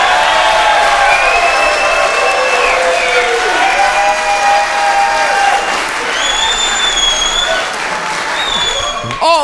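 A packed political speech audience rises in loud, sustained applause with cheering and whoops, a dense roar of clapping filling the room, with voices rising over it.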